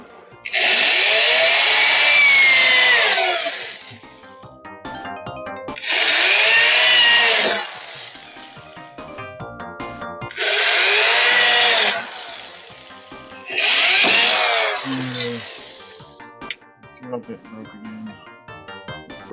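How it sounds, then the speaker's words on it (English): Power drill boring with a worn drill bit, four long loud bursts of whining motor noise, each a few seconds long and separated by short pauses, ending with scattered quieter clicks and handling sounds. "It's a pretty crappy drill bit, but I'm not surprised."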